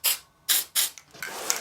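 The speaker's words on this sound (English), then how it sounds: "use is the PME Luster Spray in the pearl colour, and just spray it on," Several short hissing bursts from an aerosol can of pearl luster spray applied to a cake, three quick blasts followed by softer, sputtering sprays.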